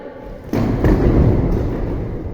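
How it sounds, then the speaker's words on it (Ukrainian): A sudden muffled bang, quickly followed by a second thud, trailing into a dull rumbling echo. "Постріл!"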